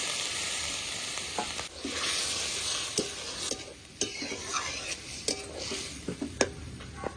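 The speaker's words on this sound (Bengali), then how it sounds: "এবারে ওই তেলের ভেতর তরকারিটা ঢেলে দেবো।" Vegetables poured into hot oil with cumin seasoning in a pan, sizzling and frying with repeated scrapes and clinks of a spatula stirring against the pan, close and alone without talking.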